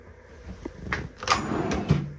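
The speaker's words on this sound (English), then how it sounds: "Got a really big drawer here." A large drawer in a 2016 Born Free Royal Majestic motorhome interior slides and thumps, giving a few close, moderately loud knocks and rubbing scrapes over about two seconds with no talk.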